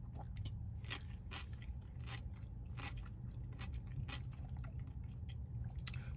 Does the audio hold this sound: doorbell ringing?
no